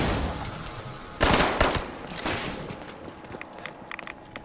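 Gunfire in the video game Fallout 76 breaks out as a sudden, loud volley of several close shots, followed by scattered fainter pops and clatter.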